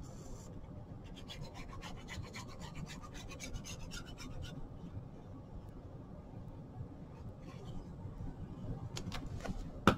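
A tool burnishes a paper folio on a work surface with steady rasping rubbing strokes, close and continuous, for about ten seconds, ending in a sharper scrape and a knock.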